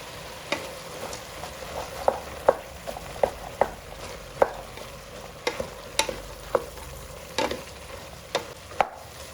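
Vegetables, pulses and greens fry in oil for a bamboo-shoot gravy, a soft steady sizzle broken by regular sharp scrapes and taps of a spatula stirring the pan close by.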